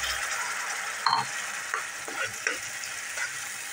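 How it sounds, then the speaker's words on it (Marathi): Onions and ground masala paste sizzle and fry in a pan while an egg curry is cooked, with a steady broadband crackle and a few soft stirring scrapes close by. "आता हे जे वाटण आहे केलेलं ते आपण टाकून घेऊया"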